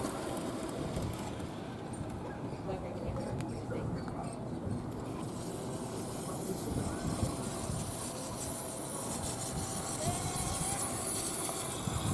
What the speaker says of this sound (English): the train's back up and running again